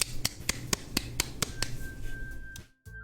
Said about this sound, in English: The four of us applaud.